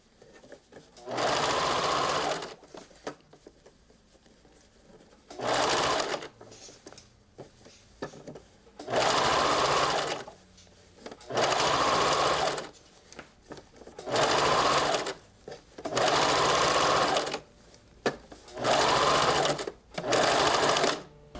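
A sewing machine stitches a sleeve into the armhole of a bolero, running in about seven loud bursts of steady whirring separated by short quiet pauses.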